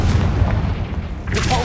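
A fiery Confringo spell detonates in Hogwarts Legacy with a deep, heavy boom that rumbles briefly before a brighter crackle trails off.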